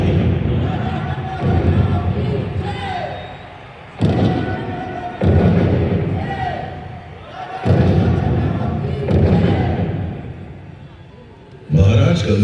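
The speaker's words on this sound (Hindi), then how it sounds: "महाराज गंगाधर राव को कड़क मिश्री और भवानी शंकर नाम की तोपों से सलामी दी गई।" Cannon salutes in a light and sound show at Jhansi Fort sound as a series of heavy booms, about four, each decaying slowly, while a narrating voice speaks between them.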